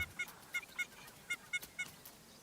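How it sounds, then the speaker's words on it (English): A double-striped thick-knee calls outdoors in El Salvador, giving a series of sharp, nasal honking notes in an uneven rhythm, fairly faint and at a distance. "Double-striped thick knees are fabulous birds, although their name is misleading."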